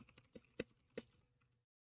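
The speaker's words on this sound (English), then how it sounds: "my keyboard is probably really loud" Quick clicks of a computer keyboard, a short irregular burst of keystrokes close to the microphone, then silence.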